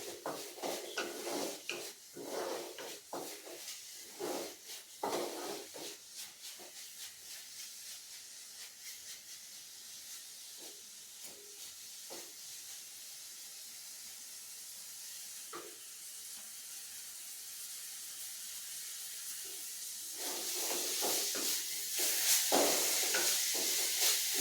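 Sardine mathi peera masala paste sizzles and hisses steadily in hot oil, with scraping stirs knocking against the pan throughout and the frying rising louder near the end; no one speaks.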